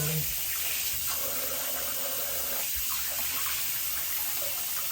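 Water running steadily from a household tap that is still giving cold water, a continuous hiss that stays fairly loud and close throughout without pause.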